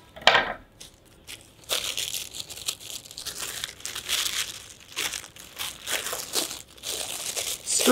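Paper, including a satsuma wrapper, is scrunched up by hand for a craft, making repeated close crinkling and crackling bursts with brief pauses between handfuls.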